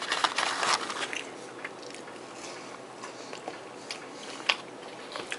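Wendy's fries are bitten and chewed up close, a few soft crunches followed by quiet, irregular chewing with no talking.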